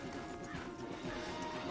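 Horses in the Red Dead video game clopping along a wooded path, their hooves mixed with a whinny and a crash, steady and fairly close throughout with no talk.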